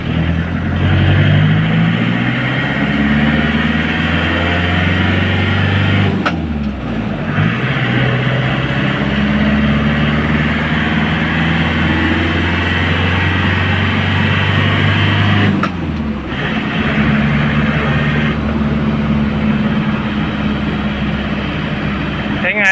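A Nissan Big-M pickup truck with the red-top engine drones steadily while driving, a loud close cabin hum with low rumble and two brief dips, as someone talks over it.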